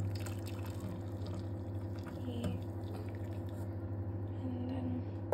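Hot water pours steadily into a cup for instant coffee for two, a continuous close trickling wash over a low hum, with a faint drip near the end.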